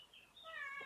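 Pet cat meowing once, a short, faint rising-and-falling mew heard close in a quiet indoor room.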